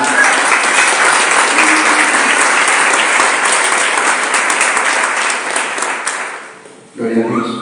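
A church congregation gives loud, sustained applause that fills the room and then fades, with a voice starting up at the end.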